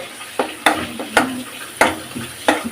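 Rohu or catla fish being sautéed with spices in a little oil in a home pan, giving a steady low sizzle broken by five or six sharp scrapes and clinks of a stirring spatula.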